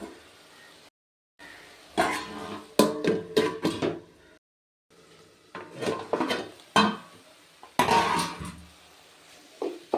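A lid is lifted off a pot of turkey berry curry and a spoon stirs it, with close clinks, knocks and scraping taps against the pot in uneven bursts, separated by short silent gaps.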